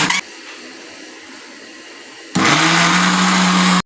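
A low hum runs briefly, then a blender kicks on loud and steady, grinding boiled spinach at full speed until it suddenly cuts off.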